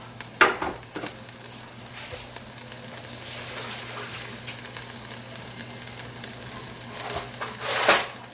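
Chopped seafood pasta ingredients, including clams, hit a hot pan and sizzle in a continuous close fry, with brief louder bursts and stirring at the start and end, and no voices.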